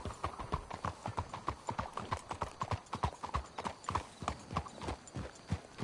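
Horse hooves clip-clop at a steady, brisk rhythm in the video game Red Dead Redemption 2, close and continuous, with faint tack jingle between the hoofbeats.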